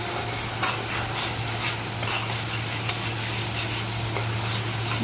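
Spice paste for a ridge gourd curry sizzles and fries steadily in oil, a continuous close crackling hiss with occasional stirring scrapes, no voice over it.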